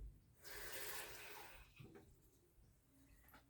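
Water poured from a measuring cup into a batch of limeade, a short splashing pour followed by quieter trickling and drips, fairly close and without talk.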